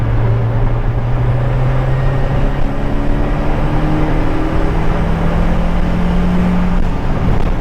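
Turbocharged Acura Integra GSR cruising at about 3,500 rpm, a steady droning engine note with smooth rising tones and constant road and cabin rumble, no voices.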